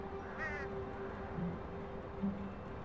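A single bird caw rises briefly in a video game, a short harsh call standing out over a steady low ambient hum, followed later by a few faint soft blips.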